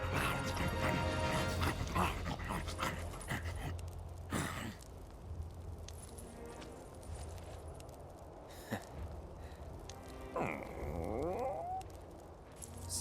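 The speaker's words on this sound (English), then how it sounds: "he really is a dog." A dog in the video game Final Fantasy VII Rebirth whimpers, sighs and gives short yips over background game music and effects, with a few sharp accents scattered through.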